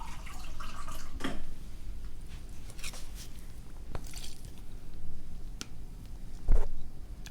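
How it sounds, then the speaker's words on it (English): Water poured from above onto the soil of a potted peperomia, giving soft wet squishes and irregular drips and splashes, with a few sharper spills standing out against a quiet background. "I make the top wet. I put water."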